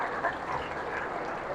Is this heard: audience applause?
yes